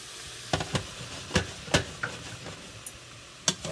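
Apple cider vinegar hits a hot pan, with a low steady sizzle under a series of sharp scraping and stirring clicks, spaced irregularly and fairly close.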